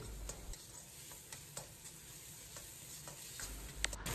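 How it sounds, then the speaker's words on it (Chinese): Sweet bean sauce and dried yellow soybean paste stir-fry over medium heat in a wok with ginger, scallion and cooking wine, giving a soft steady sizzle with light ticking spatula scrapes. It is quiet and close, with no talking. "继续开中火把酱炒出香味"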